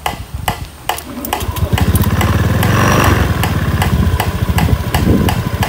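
Honda Beat scooter engine with a faulty TPS sensor revved up and held, rising into a steady, loud mechanical drone with a rapid pulsing beat and sharp ticks throughout, no talking.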